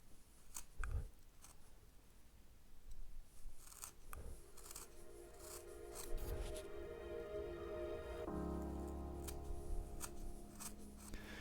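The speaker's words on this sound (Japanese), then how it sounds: "小さい丸刀で" A small round gouge carving a wooden figure's leg, giving soft, steady scraping and shaving cuts close up, with faint taps between strokes and no talking.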